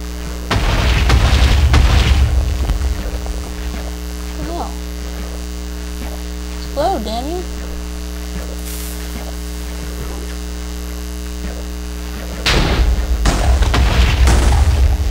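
Explosions in the video game Minecraft give two heavy booming rumbles, one near the start and one near the end, over a steady electrical hum with brief voice-like sounds between them.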